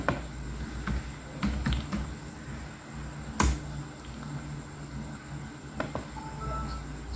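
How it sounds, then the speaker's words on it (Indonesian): Typing a username and password on a computer keyboard during a login demo, with scattered key taps and one sharper click over steady room hum, and no speech. "Kita akan mengetik"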